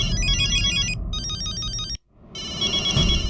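A phone ringtone chimes in a bright repeating electronic melody, loud and close, breaking off briefly before resuming with a low rumbling background underneath.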